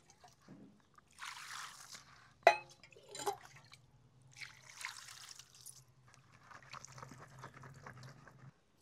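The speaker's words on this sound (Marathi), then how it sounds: "फ्लावर आता थंड पाण्याने 2 ते 3 पाण्याने धुवून घेऊ।" Cauliflower being washed with cold water in a bowl at a rural home kitchen, faint splashes, trickles and a sharp clink of the bowl, quiet and close.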